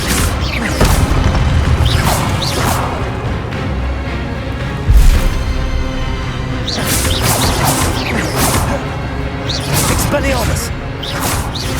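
Expelliarmus spells cast again and again in a Hogwarts Legacy fight: loud booms and whooshing bursts strike in clusters over dense battle noise, with voices in among them.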